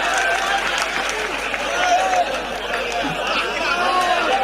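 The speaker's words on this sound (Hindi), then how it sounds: "तालियां बजा दीजिए।" An audience claps at a humorous Hindi poetry recital, a steady wash of applause mixed with crowd chatter and voices, held evenly for several seconds.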